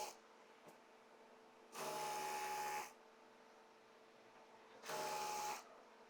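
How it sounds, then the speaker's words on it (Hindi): Sewing machine stitching the seams of a full circular umbrella plazo, two short bursts of whirring each lasting about a second, separated by quiet pauses, fairly close and with no talking. "दोनों पार्ट को इस तरह से बराबर रखते हुए सिलाई लगा देंगे।"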